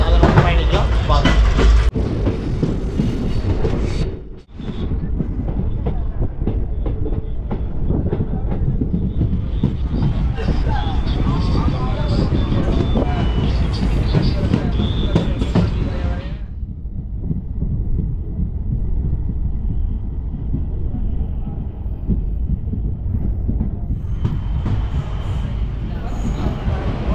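Tambaram–Pothanur special fare express train running near Panruti railway station, with a steady, loud rumble of wheels and carriage noise throughout, a brief dip around five seconds, and speech heard over the train.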